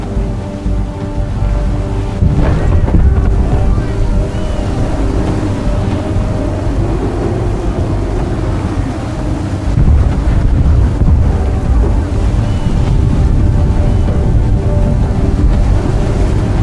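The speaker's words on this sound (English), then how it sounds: "Heavy gusts, Captain." Stormy wind at sea in Assassin's Creed 3 Remastered during a naval battle, a loud, steady roar of gusts and crashing waves around a sailing ship that carries on without a break and swells in places.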